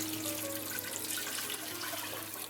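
Water pours steadily into a pot on a stove, a continuous splashing rush lasting a few seconds, fairly close and heard alone.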